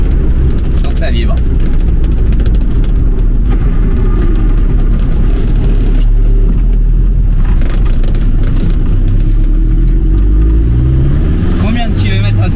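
An old car with a driveshaft cut in two and crudely rewelded rumbles loudly, a heavy continuous low vibration and engine drone filling the space, with a voice briefly audible near the end.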